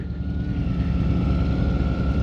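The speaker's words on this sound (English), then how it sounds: "This is Kawasaki's middleweight class sport bike" A 2019 Kawasaki Ninja ZX-6R, a 600-class middleweight sport bike, ridden on the street, its engine giving a steady, loud, continuous drone with a faint whine running through it.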